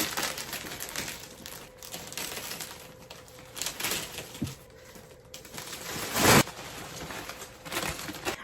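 Plastic wrapping crinkles and rustles as a Cemtip 12-inch queen hybrid memory foam mattress is unpacked, with soft intermittent crumpling and a sharp louder tearing burst near the end.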